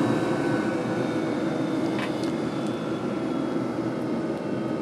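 Diesel heater fans running during afterburn shutdown on a self-powered, thermoelectric-driven heater, a steady loud whooshing drone with a constant hum, continuous and unchanging for the whole stretch, no talking.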